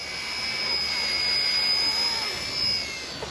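An RC ERA UH-1 model helicopter flies flat out into the wind, producing a steady high-pitched motor and rotor whine with a thin tonal whistle, swelling and easing slightly as it passes at moderate distance.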